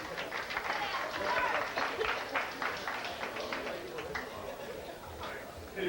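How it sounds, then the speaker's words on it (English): Applause and crowd noise from a television studio audience fill the stretch steadily, with chatter mixed in for about six seconds. "Thunderous applause,"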